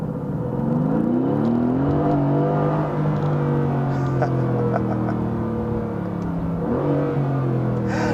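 A car with an active exhaust system revs loudly and close, its engine note rising and falling in strong sweeping waves that hold a steady, throaty drone for several seconds. Nobody speaks.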